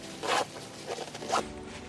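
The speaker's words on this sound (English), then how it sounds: "And then I'll zip it back up." A zipper closing around a fabric packing cube in a few short pulls, quiet and close over faint room noise.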